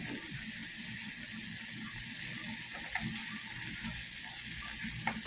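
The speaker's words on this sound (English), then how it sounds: "Right now, the salmon is just frying a little bit." Steady sizzling of salmon frying in a pan, a continuous crackling hiss with a couple of small pops, heard close with no voices.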